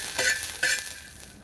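Garlic and ginger dry-roasting in a pan for a black masala mutton, a soft sizzle with two brief scraping stirs, faint and close.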